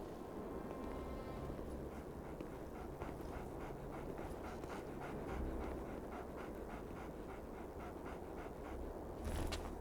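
A white dog in the video game Commandos Strike Force pants in a steady, quick rhythm that runs throughout, close and continuous over a dense layer of game ambience.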